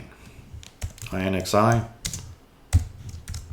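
Computer keyboard keys clack in quick irregular bursts while commands are typed on a Linux machine, heard close up with someone speaking over part of the typing.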